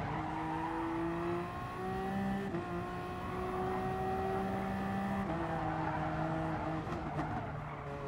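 Race car engine drones steadily at high pitch in Gran Turismo Sport, with steady engine tones shifting as the car slides off into a barrier; continuous and loud throughout, no voices.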